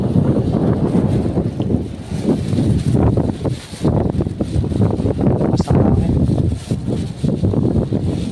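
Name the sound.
strong wind outdoors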